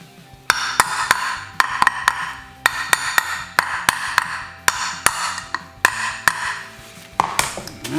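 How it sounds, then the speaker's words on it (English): Metal hammer blows driving a motor mount cover down on a 1995 Geo Tracker engine, about a dozen sharp, ringing strikes in uneven bursts of two or three, close and fairly loud in a quiet garage. "Probably need to hammer it down just a little bit."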